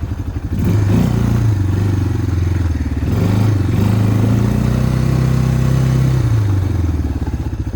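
A small motorcycle engine runs steadily while coasting downhill, with a rattling, mid-pitched drone, its note dipping and rising slightly, close and loud with no voices.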